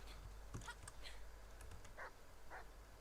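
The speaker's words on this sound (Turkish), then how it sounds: "Ya bu köpek de çok her yere takip ediyor ya." In the survival game Die Young, a dog following the player gives a few faint, spaced barks and yelps against constant ambient noise, with no talk over them.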